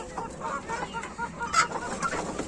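Ornamental chickens cluck continuously nearby in a coop, a busy overlapping chatter of short, throaty calls with one louder squawk partway through.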